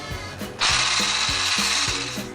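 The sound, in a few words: whisking egg whites with caster sugar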